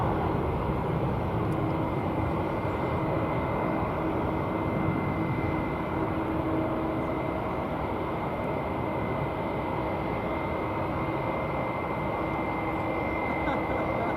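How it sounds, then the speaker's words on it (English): An American Airlines Airbus A321 jet at DFW Airport gives off a steady, broad engine roar at a moderate distance, with a voice talking over the noise throughout. "What you're looking at there is an A321 American flight 1992, which is headed"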